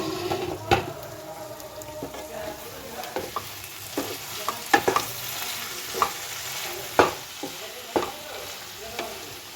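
A spoon stirs an eggplant, bean and potato curry in a pan, scraping and clinking at irregular intervals over a soft, steady sizzle, close by.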